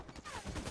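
A plasma rifle fires in an arena match of the Halo 5: Guardians video game, producing a quick, loud burst of crackling energy shots that lasts under a second.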